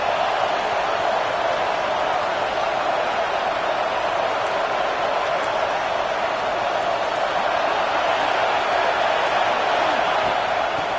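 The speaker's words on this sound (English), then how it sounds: "It's early, but this crowd is fired up. Listen to this noise here." Loud, steady roar of a football stadium crowd cheering early in a game, a dense wash of noise that holds throughout with no clear breaks.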